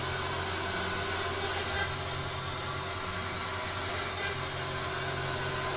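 A vacuum cleaner runs steadily nearby in a home workshop while a back panel for an Amiga B2000 case is being made, a constant loud whooshing drone with a faint hum and no speech.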